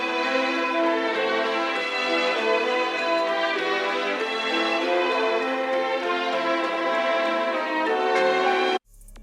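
A dense, sustained string music sample plays steadily at original pitch with rich layered harmonics, loud and continuous, then cuts off abruptly near the end.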